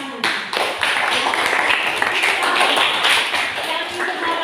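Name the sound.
applause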